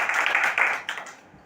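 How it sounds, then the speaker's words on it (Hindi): A small group claps briefly in a classroom, a dense burst of hand claps lasting about a second before tapering off, with no talking over it. "बहुत बढ़िया ताली बजाइए इसके लिए"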